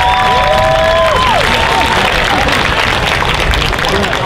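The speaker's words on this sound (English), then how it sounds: "Please give them a round of applause for another amazing Orlando" Crowd at the Orlando Japan Festival 2023 cosplay contest applauding and cheering the organizers, a dense, loud, steady roar of clapping with shouts and whistles, voices mixed through the crowd noise.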